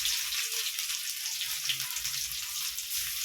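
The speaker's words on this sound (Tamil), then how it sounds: "இந்த பூண்டு நசுக்கு வந்து போடுறேன்" Crushed garlic and mustard seeds sizzle in hot oil, a continuous close crackling hiss with fine popping that stays fairly even throughout and has no talk over it.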